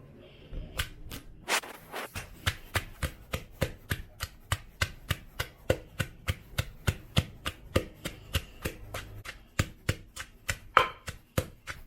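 A pestle pounds Thai curry paste with red chilies and shallots in a mortar, making steady, evenly spaced dull thuds that repeat close up for the whole stretch without talking.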